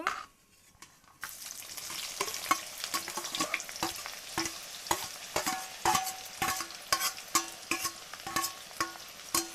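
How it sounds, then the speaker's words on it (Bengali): Onions sizzling in hot oil with whole spices, stirred steadily in a pan; after a brief quiet start, a continuous close frying hiss carries repeated sharp scrapes and clinks of the spoon against the pan. "পেঁয়াজটা দিয়ে দিয়েছি, এবার পেঁয়াজটা ভালো করে লাল লাল করে আগে ভেজে নিই।"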